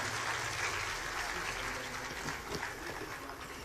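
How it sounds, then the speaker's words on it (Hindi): Audience applause at a public ceremony in Karnal welcoming the Chief Minister and guests: a dense, steady wash of clapping that holds fairly even for the whole stretch, moderately faint and with no voices on top. "आप सब जोरदार तालियां बजाकर अपनी उपस्थिति का इजहार करें।"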